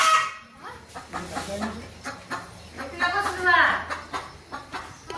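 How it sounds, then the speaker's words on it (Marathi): A hen clucking nearby in a home yard, short repeated clucks mixed with household sounds and people talking. "ते इथं कोंबडी आले बसायला"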